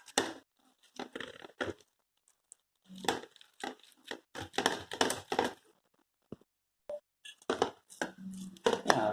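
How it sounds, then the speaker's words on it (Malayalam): Boiled potatoes being mashed by hand for a potato rava roll, a series of soft squishing, crunching presses in irregular bursts separated by brief silences, close and fairly quiet. "ഈ വേവിച്ച ഉരുളക്കിഴങ്ങ് നന്നായിട്ട് പൊടിച്ചെടുക്കാം"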